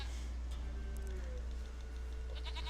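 A goat in The Witcher 3: Wild Hunt bleats in a few short, faint calls over a low steady game hum, with no talk.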